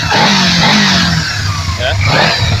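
Kawasaki Z250FI motorcycle engine revving after throttle body adjustment, a steady loud drone with rising and falling pitch over a couple of seconds.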